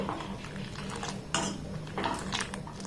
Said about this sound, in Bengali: চেষ্টা করবেন তিন থেকে চার মিনিট বাদে এটাকে এইভাবে একটু নাড়াচাড়া করে নেওয়া